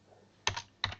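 Two quick, close bursts of computer keyboard keystrokes, each a short cluster of crisp clicks separated by a brief quiet pause.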